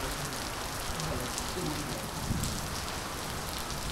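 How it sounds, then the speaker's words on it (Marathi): Sudden heavy monsoon rain during a storm in Maharashtra pours down steadily, a dense, even hiss of drops hitting surfaces, close and continuous with no pauses. "अशा प्रकारे आज अचानक पाऊस आलाय"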